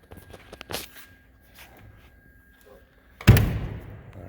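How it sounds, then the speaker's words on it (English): The door of a 1949 Cadillac Series 61 two-door Sedanette is swung shut with a single solid, close thunk, following a stretch of quiet handling sounds and light movement. "door shuts nice"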